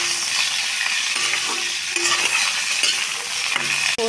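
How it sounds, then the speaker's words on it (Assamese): Pieces of boiled cauliflower drop into hot oil and fry, giving a steady close hiss and crackle of sizzling with a few faint clinks and stirring sounds on top. "গৰম তেলত এটা এটাকৈ ফুলকবি টুকুৰাবোৰ দি দিম"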